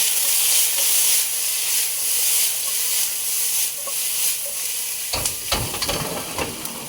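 Hot dogs frying in a pan on high heat give a steady, loud sizzle and hiss, with a few clattering stirs or flips near the end.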